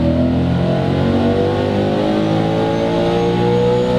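A supercharged Ford Mustang GT on a dyno pull, its engine roaring loud and close at high, steadily climbing revs with no break for the full four seconds.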